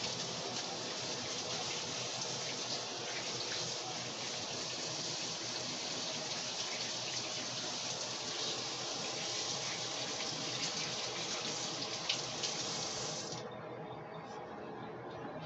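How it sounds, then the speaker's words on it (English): Steady broadband rush of tap water running into a kitchen sink during hand washing, continuous and fairly loud for most of the stretch before cutting back near the end. "Let me wash my hands off."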